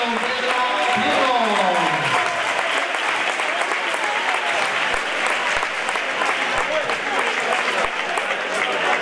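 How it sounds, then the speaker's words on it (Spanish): Crowd applause at an amateur elite 60 kg boxing event in Bárcena de Cícero, steady and loud throughout, with an announcer's voice over it at the start. "¡Un aplauso para Noelia Sierra y para don Pedro Prieto!"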